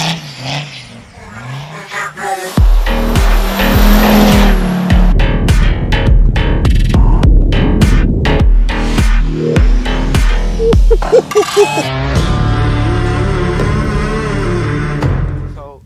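A car with an OM605 superturbo diesel engine drifting on snow, roaring loudly close by with repeated revving surges and tire noise, the engine rising and falling through gear changes, under occasional voices.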